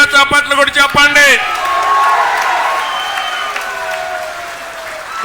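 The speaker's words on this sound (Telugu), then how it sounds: "అవునంటే గట్టిగా చప్పట్లు కూడా చెప్పండి" Audience applause and cheering at a TDP political meeting with Muslim community members in Nellore, a loud sustained wash of clapping and whoops from a large crowd, following a brief spoken line at the start.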